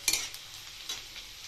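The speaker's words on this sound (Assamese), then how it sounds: "আলু ভাজিব লৈছোঁ" Potatoes fry in a home kitchen pan, giving a soft, steady sizzle, with a few sharp scraping clatters of stirring near the start and another brief knock partway through.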